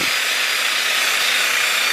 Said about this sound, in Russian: И мы еще чуть шлифанем с вами.